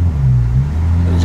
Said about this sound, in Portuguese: ele vai manter um tempo com o motor gasolina ligado agora